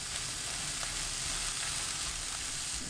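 Shishito peppers stir-frying with olive oil and minced garlic over high heat in a pan, a dense, steady hiss of sizzling oil throughout, close and even.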